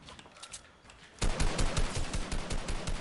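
Gunfire in the Fortnite video game starts as faint scattered pops. It then jumps into a loud, rapid automatic burst of closely spaced shots that continues to the end.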